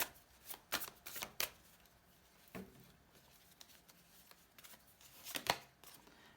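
Tarot cards being shuffled and drawn, crisp riffling bursts clustered at the start with a few scattered flicks and a final quick flurry, close and fairly soft.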